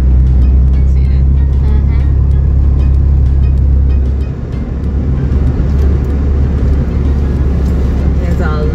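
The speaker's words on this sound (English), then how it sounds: "There's a lot of traffic westbound." Steady road traffic rushes past close by, a dense low rumble of cars with a brief dip midway, while people chat over it.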